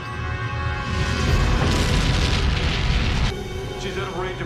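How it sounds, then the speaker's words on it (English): Nuclear detonations from the science-fiction film Babylon 5: In the Beginning, a loud sustained deep rumbling roar that swells and then drops away to a fading ringing tail. "Detonate nukes. Now."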